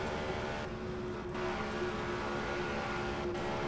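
A Novi-engined race car in the Indianapolis 500 Evolution racing game gives a steady, dense engine drone with a constant pitch, heard alone and without break.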